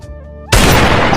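A single loud, close gunshot burst from the Free Fire game cuts in abruptly after a brief quiet musical tone, ringing out sharply and filling the rest of the moment.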